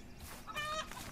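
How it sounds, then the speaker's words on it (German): Chickens in the Witch of Fern Island farming game give a short burst of soft clucking, quiet and brief over a faint background. "Das sind schöne Hühner, die hätte ich gerne."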